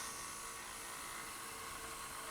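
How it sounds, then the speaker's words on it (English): A power sander grinds steadily against the edges of a leather shoulder holster, a constant even whir with no talk. "Then it's over to the sander to sand those edges to match."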